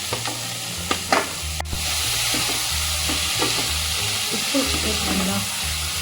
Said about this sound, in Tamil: இதுலேயே தக்காளி, கருவேப்பிலை, கொத்தமல்லி எல்லாம் போட்டு வதக்குவோம்